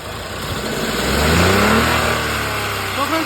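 A 2017 Maruti Baleno RS engine revs up close by under the accelerator, the pitch rising and then easing back toward idle, with no smoke or back compression.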